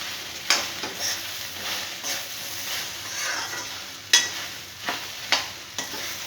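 Mustard seeds sputter and crackle in hot oil in a pan before okra is added, a steady close sizzle broken by several sharp popping bursts, with no talking.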